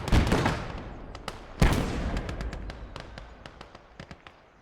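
Mortar fire in a war video game: two heavy booming blasts with rolling decay, followed by a series of sharper distant cracks and thumps fading out.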